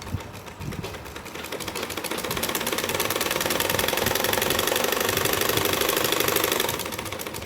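A sewing machine stitching a palazzo pant, its needle chattering in a fast, steady rapid-fire run that builds up, holds for several seconds close by, then slows to a stop.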